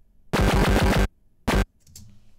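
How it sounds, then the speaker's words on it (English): Dubstep synth wobble made by retriggering a held note, a loud rapid pulsing buzz lasting under a second, then a short second burst, with no voice. "you get this wobbling effect"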